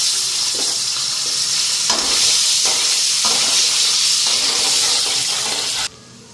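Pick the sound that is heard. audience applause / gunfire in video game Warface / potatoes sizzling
potatoes sizzling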